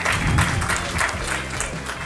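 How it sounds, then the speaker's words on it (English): Applause from the crowd at a medical awards ceremony for a best orthopedic surgeon award, loud, dense clapping that fills the whole moment with no voice on top. "So can we have a round of applause for Dr. Kapil Tyagi"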